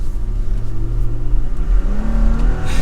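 A 2023 Toyota Tacoma pickup accelerating, its engine droning loud and close with a steady rising tone and continuous road and cabin noise under it.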